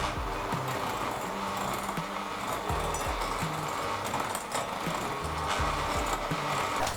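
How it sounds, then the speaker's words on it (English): An electric mixer whips butter with sugar for a cake batter, producing a continuous loud motor whir with rhythmic knocking of the beaters against the bowl, steady throughout. "we are going to whisk the butter with the sugar for a couple of minutes"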